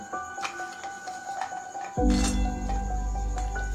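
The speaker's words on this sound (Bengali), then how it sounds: "তেলটা গরম হয়ে গেছে কাজুটা ভেজে নেব" Cashews dropped into hot refined white oil in a pan, quiet at first with small taps, then a sudden loud burst of sizzling that settles into a steady close fry.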